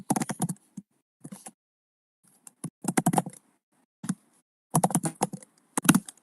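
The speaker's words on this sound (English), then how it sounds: "Intense typing." Fast, intense typing on a computer keyboard comes in dense bursts of clacking keys, with short pauses between flurries, close and fairly loud and with no voices.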